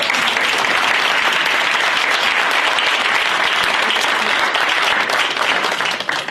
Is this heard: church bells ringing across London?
no